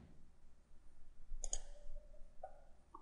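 Computer mouse clicks during SolidWorks or Inventor CAD modeling: a crisp double click near the middle, then a couple of quieter clicks toward the end, over a faint room hum.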